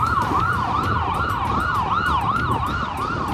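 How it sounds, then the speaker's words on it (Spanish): An ambulance siren passes on the road, wailing in a steady, rapid up-and-down cycle close by over a low traffic rumble. "Pero después vino una ambulancia"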